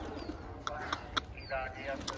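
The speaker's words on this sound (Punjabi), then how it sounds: "ਆ ਗਈ ਆ ਗਈ ਆ ਗਈ ਕਬੂਤਰੀ" A female pigeon coos softly a few times amid light bird chirps, with a voice calling out over it.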